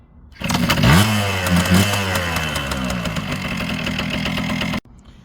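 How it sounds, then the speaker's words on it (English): A Kawasaki KM100 motorcycle is kick-started and catches almost at once, revving briefly before settling into a steady, loud idle close up, then cutting off abruptly. "Kawasaki KM100, just kick it."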